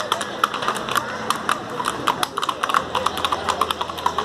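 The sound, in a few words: horses' hooves clip-clopping in a religious cavalcade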